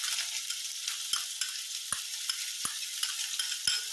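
Chopped onion fries in hot oil in a pot for a crab masala, making a bright, continuous sizzle punctuated by regular light taps of a spoon as it is stirred, close and unaccompanied by speech.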